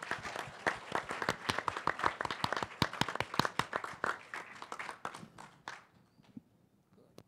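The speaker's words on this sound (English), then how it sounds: "I think we can give a round of applause for him" Audience at a Selenium conference in India claps for a committee co-chair, bright separate hand claps from a modest crowd that thin out and trail off into near quiet.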